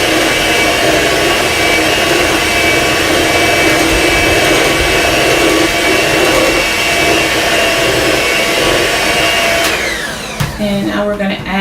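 An electric mixer whirs loudly and steadily through cake batter in a bowl for about ten seconds, then shuts off, leaving brief clatter and faint background sounds.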